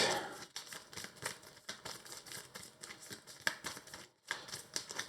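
Arkham Horror card game cards get shuffled together by hand, a close, quiet series of rapid riffling flicks and papery clicks in short bursts with brief pauses between them.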